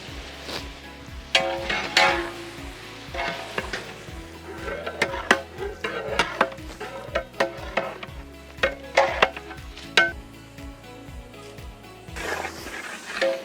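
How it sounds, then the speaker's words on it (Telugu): Tomato pieces going into frying onions in a pan for aloo tomato curry, giving a steady sizzle with repeated stirring and clanks of a spoon against the pan, no talk. "ఉల్లిపాయ ముక్కలు కొంచెం వేగగానే దీంట్లోనే మనం టమాటో ముక్కలు యాడ్ చేద్దాం."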